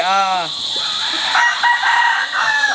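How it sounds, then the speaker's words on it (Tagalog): A farm rooster crows loudly and close, a rising drawn-out call, followed by scattered clucks and faint background noise. "This is my also favorite chicken, sir."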